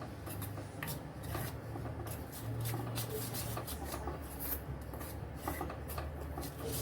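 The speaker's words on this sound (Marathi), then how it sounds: "आता याच्यात आपण गव्हाचं पीठ घालूया थोडं थोडं करून मी एक कप घेतलेला आहे आता हे मिक्स करूया" Wheat flour is mixed by hand into a thick red pumpkin batter for gulgule, producing a steady, close, gritty rubbing and squelching that continues without pause.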